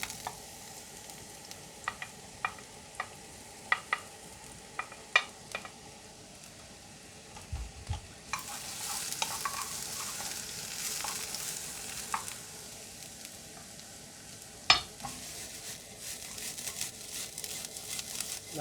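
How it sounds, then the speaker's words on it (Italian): Eggplant fries in plenty of oil in a hot pan, giving a soft steady sizzle. Scattered clicks and stirring scrapes sound over it, and the sizzle grows louder partway through. "In una padella calda metto un po' d'olio abbondante e aggiungo la melanzana."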